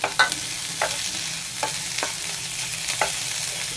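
Grated ginger fries in oil in a pan for a mixed vegetable dish, with a steady sizzle broken by repeated scraping strokes of a spoon stirring it, close and moderately loud.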